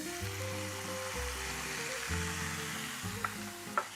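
Orange juice sauce for chicken breast with Gaeta olives sizzles steadily in a pan, a soft continuous fry with faint music-like tones underneath and a couple of small clicks near the end.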